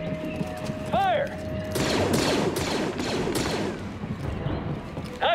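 Blaster-style gunfire in Star Wars Jedi: Fallen Order, a quick volley of several sharp shots in the middle, with electronic chirps and a voice around it.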